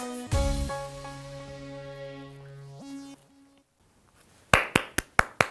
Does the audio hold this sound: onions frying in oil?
no